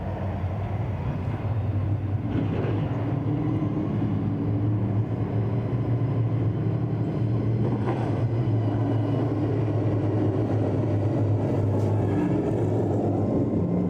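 Race cars at a racing event at Claremont Motorsports Park, a steady loud engine roar from several cars running side by side on the track, sustained throughout with no clear breaks.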